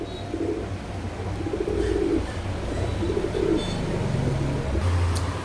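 A pair of silver highflyer giribaz pigeons, a male and a female, coo in low, repeated throaty phrases over a steady background murmur.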